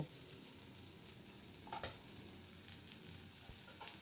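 Chopped vegetables and green chillies tossed together in a frying pan, a soft, quiet sizzle with a couple of faint scrapes from stirring, close but low in level, no one talking.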